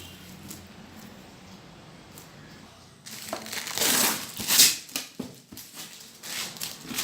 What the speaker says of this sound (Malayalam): കേസ് നമ്മൾ അൺബോക്സ് ചെയ്യുകയാണ്.